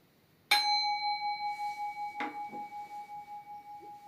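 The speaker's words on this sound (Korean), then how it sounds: "싱잉불을 올렸습니다." A singing bowl is struck twice, a few seconds apart, each strike giving a clear metallic ring that hums on with a slow, pulsing wobble as it fades in an otherwise quiet room.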